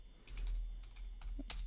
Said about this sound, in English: am I typing that correctly?